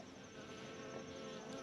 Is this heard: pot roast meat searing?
no